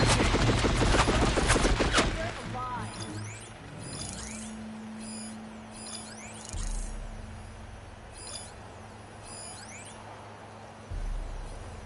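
Gunfire in Horizon Forbidden West, a thick fusillade of rapid shots over the first two seconds, then fading into a quieter ambient scene with scattered chirps and a low hum.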